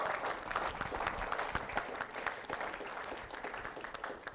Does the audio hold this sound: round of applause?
yes